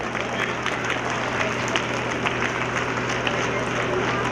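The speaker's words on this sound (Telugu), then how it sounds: "ఒకసారి క్లాప్స్ కొట్టండి." An audience applauds at a school building inauguration in Rajapur, a dense, steady wash of clapping that holds at an even level throughout.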